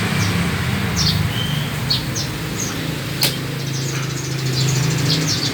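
A sooty-headed bulbul (kutilang) gives short, scattered chirps and song phrases over a steady low hum of background noise, with a sharp click partway through.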